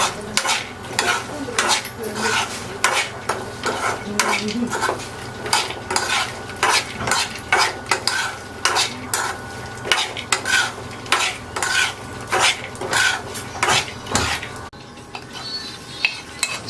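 Cashews frying in ghee with continuous sizzling, punctuated by frequent rhythmic scraping and clinking of a metal spoon against the pan as they are stirred.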